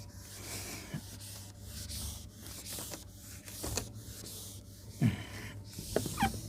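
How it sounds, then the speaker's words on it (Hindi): A classroom board is rubbed clean with an eraser in soft, repeated scrubbing strokes, with a few sharper knocks and scrapes between them, faint and close, with no speech. "चलिए तो ये रब कर देता हूँ"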